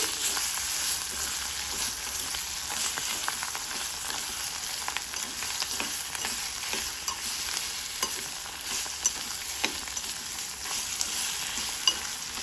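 Carrot chutney with ginger is stirred in a pan: a soft continuous sizzle with repeated scraping strokes of a spoon, close and fairly quiet, with no talking.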